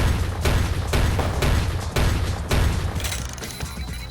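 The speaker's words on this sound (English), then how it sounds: "Let them shoot." Enemy gunfire in Vampire: The Masquerade – Bloodlines: loud, regular bursts of shots about every half second, each a heavy boom with a rattling tail, steady and close throughout.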